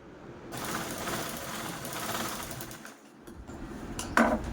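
A sewing machine runs in a steady, rapid stitching burst while it sews the sides of a cloth shopping bag. After a short pause there is a brief clink at the end.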